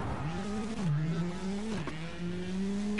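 A rally car engine in the WRC 8 video game revs and drones up close, pitch rising and dipping through quick gear changes and throttle lifts before settling into a steady climbing whine.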